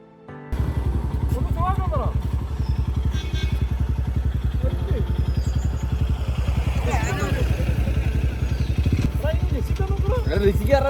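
A motorcycle runs at night along a forest road near Masinagudi, a steady mid-pitched engine drone with some clatter heard close up, with a voice talking over it throughout.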